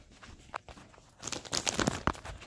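Packaging for a custom pillow is torn and crinkled open from the back, with quiet rustles and taps giving way to a louder burst of ripping and crumpling plastic close by.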